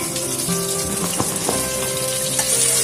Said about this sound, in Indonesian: digoreng-goreng dulu ya biar si kecapnya tuh terkaramelize